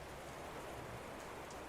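Steady rain pours down as a dense, even hiss of drops with no pauses, used as ambience for a stormy outdoor scene.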